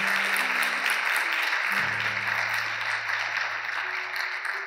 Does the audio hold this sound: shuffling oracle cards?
no